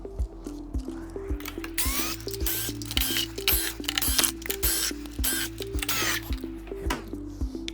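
An electric screwdriver whirs in repeated short bursts while backing out the eight 3mm screws on the top cover of an Inmotion P6, with small metallic clicks and handling noises between runs.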